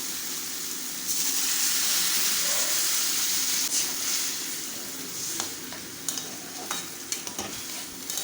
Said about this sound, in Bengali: এবারে ডুমুরটাকে মিনিট দুয়েক ভালোভাবে ফুটিয়ে নেব